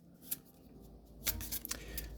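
A deck of tarot cards is shuffled quietly by hand, giving a few soft, brief riffling bursts close by with near-silence between them.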